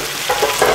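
Beef and onions frying in a pan make a loud, dense sizzle for a brief moment, with a couple of soft stirring scrapes rising above the hiss.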